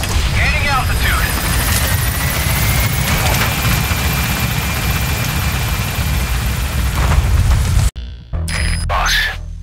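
A helicopter in Metal Gear Solid V lifts off with a continuous loud rotor and engine whir and a high whine, close and steady, before the sound cuts to short game effects near the end.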